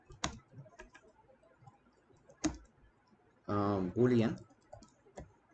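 Keys clicking as Java code is typed on a computer keyboard, a few sparse sharp taps spread across the moment, with a brief spoken word in the middle.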